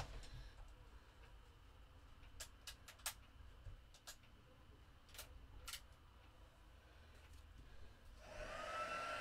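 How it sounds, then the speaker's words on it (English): A heat gun warming up for white heat embossing on Christmas cards gives a soft, steady blowing whir. Scattered light clicks and taps sit over it, and the airflow swells louder near the end. "So start the heat gun up, let it get to heat."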